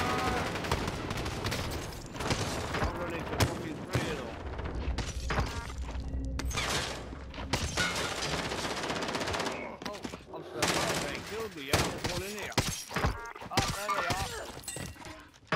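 Rapid gunfire and shattering impacts from the battle royale video game Warzone, crackling in dense, irregular bursts across the whole stretch. Loud and busy, mixed with excited player chatter.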